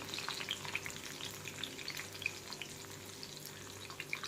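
Coriander leaves frying in hot oil for a crispy namkeen snack give off a steady, fine crackling sizzle, with small pops scattered through it. The sound is quiet and continuous, with no voices.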